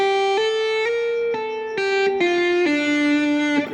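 An electric guitar plays a slow sequence of sustained single notes through an effects unit, each ringing bright and slightly distorted before the next pick.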